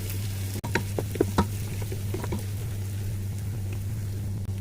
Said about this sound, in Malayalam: നന്നായി മിക്സ് ചെയ്ത് നല്ല ഫ്രൈ ആയിട്ട് വന്നിട്ടുണ്ട്